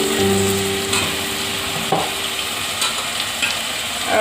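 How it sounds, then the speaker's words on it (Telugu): Onions and brinjal frying in oil in a pan, a continuous close sizzle with occasional stirring scrapes and a low hum, no talking. "ఆయిల్ అంతా పైకి తేలిపోయిందండి, అంటే ఆనియన్స్ బ్రింజల్ బాగా ఫ్రై అయిపోయినాయి"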